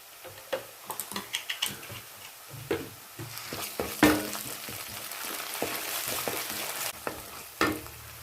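Ginger garlic paste sautéed with onions in a pan for kadai paneer: a run of quick spoon taps and scrapes, then a strong continuous sizzle with occasional louder clatters, close up and without talk.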